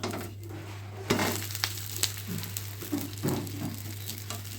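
A mango dosa sizzles on a hot pan with a steady frying hiss, punctuated by a few scraping and tapping sounds as it is flipped with a spatula, close and moderately quiet against a low electrical hum.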